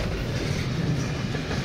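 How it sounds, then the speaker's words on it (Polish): A Mars Logistics freight train of the Luxembourg railways rolls past near Bischofsheim, a steady close rumble of wagons with faint clickety-clack from the wheels, no voices over it. "to niemalże identyczny skład Mars Logistics kolei luksemburskich"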